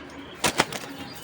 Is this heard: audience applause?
no